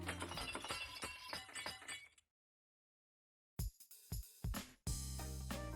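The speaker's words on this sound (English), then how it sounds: "A second later, I hear the sound of breaking glass." Glass breaks in a visual novel game, a bright crash with scattered tinkling shards following a stretch of music and a sudden silence, with no talk.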